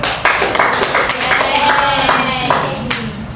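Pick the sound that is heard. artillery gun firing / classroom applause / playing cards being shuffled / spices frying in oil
classroom applause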